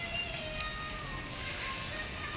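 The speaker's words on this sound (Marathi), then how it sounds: "बघा पाऊस आहे" Heavy rain falling steadily outdoors, a faint, even hiss of drops with no voices over it.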